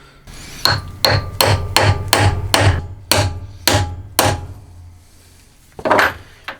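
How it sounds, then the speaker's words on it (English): A hammer strikes metal about ten times in a steady rhythm, loud and close, driving a coilover part into an aluminum bore, with one final knock after a short pause. "Just hammer that in until it hits the first retaining clip"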